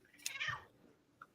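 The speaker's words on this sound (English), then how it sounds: "You hear that cat, Glenda?" A single short, fairly faint meow from a house cat, rising then falling, followed a moment later by a brief soft chirp in a quiet indoor room.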